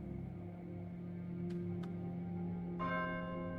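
Bell chiming to mark a new day in the horror adventure game Horror at Highrook, a soft resonant tone sustained over a low ambient game drone, followed by a brighter bell strike near the end.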